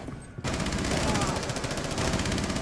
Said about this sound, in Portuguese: Quem tá trocando tiro?